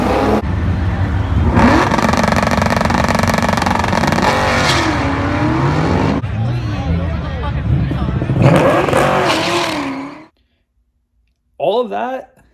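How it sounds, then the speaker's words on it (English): A car with a worn, noisy axle roars and revs loudly for about ten seconds with clicking and scraping underneath, then cuts out; a short burst of sound follows after a pause. "if you guys don't understand why this axle is making noise"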